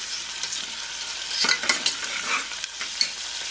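Green chillies and onions fry in a pan with a steady sizzle. A spoon scrapes and stirs them in a few clustered bursts, close and moderately loud, and no one speaks.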